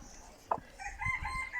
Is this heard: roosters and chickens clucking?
yes